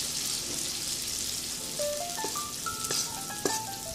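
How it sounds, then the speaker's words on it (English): Cornbread batter frying in a hot pan, giving a steady close hiss and sizzle with faint crackles and a few brief tonal clinks, with no talking. "make sure you hear that sizzle to ensure the goodness."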